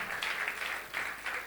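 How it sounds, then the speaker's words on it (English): An audience at a relationship-building seminar gives a short burst of clapping, a bright dense patter rising and falling in brief waves, with no voices over it. "Clap for her now."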